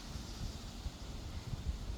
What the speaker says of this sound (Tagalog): Malakas ang hangin dito ngayon.